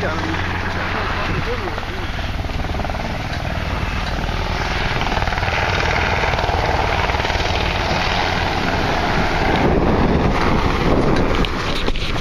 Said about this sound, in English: They're dropping the guys out of these helicopters in the water.